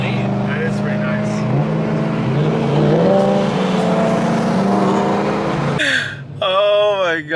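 A BMW E93 M3 pulls away hard on a street, its engine note climbing loud and sustained, then falling off, with people talking and exclaiming over it near the end.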